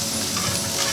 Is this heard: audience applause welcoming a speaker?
no